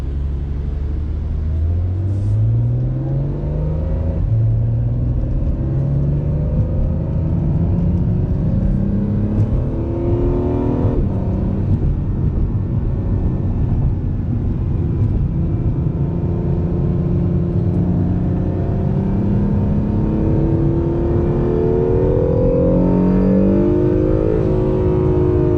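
An Acura NSX in track mode pulls out onto the Gingerman Raceway circuit, its engine climbing through several upshifts with a steady rumbling drone heard from inside the car.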